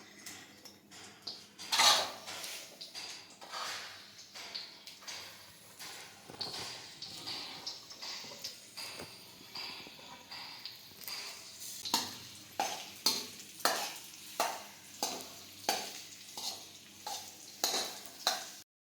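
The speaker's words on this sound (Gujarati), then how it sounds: "હવે આપણે ખજૂર સમાર્યો છે તે નાખી દઈશું." Chopped dates stirred into melted ghee in a pan for khajur pak, giving a soft sizzle with repeated scraping and stirring strokes that grow steadier and more rhythmic toward the end, with no talking.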